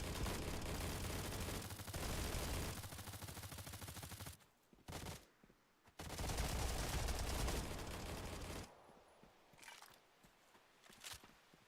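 Video game gunfire in long, loud automatic bursts with short gaps, then sparser shots and impacts.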